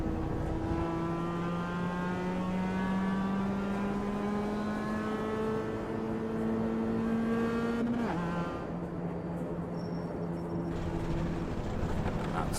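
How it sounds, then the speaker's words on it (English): Race car in the iRacing simulator running off the track onto grass, a steady rising engine tone with a softer rumbling surface noise, a brief shift-like dip partway through, loud and continuous. "That's the sound of you hitting the grass."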